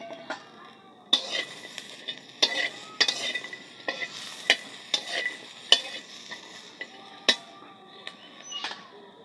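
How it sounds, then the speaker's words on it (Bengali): Chili and garlic are dry-fried in a pan without oil, with a soft continuous sizzle and repeated sharp scrapes and knocks of a spatula stirring against the pan, close and steady. "এবারে লঙ্কা আর রসুনটা নামিয়ে তেল ছাড়াই ভাজতে হবে।"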